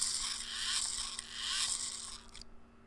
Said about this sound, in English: the EV3 motor has a deeper, more subdued whine when you turn it